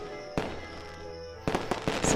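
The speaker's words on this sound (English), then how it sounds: "we finished eating just in time for the fireworks, too" Fireworks bursting over a theme park at night: a single sharp boom, then a rapid cluster of loud cracks and pops rising in intensity over a continuous background hum.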